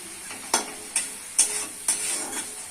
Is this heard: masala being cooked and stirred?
yes